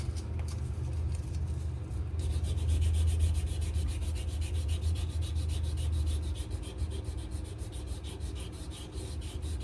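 Sandpaper rubs steadily against a wooden knife handle in a continuous scraping rasp, with a fast repetitive stroke texture over a low background rumble; no voices.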